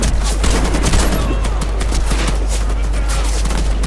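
Dense, continuous gunfire from the first-person shooter game Warface, with rapid overlapping shots forming a loud, sustained barrage throughout.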